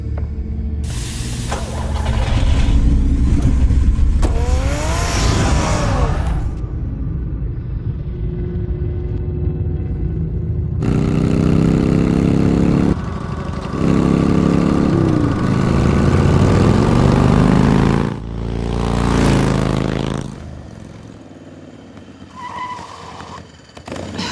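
Car engine in Batman: The Telltale Series, a loud rumble that revs and roars in bursts with rising whines, pauses, then surges again across the span, close and without speech.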